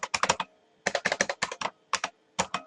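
Keys clack on a computer keyboard in quick bursts of several strokes separated by short pauses, crisp and close with nothing else audible.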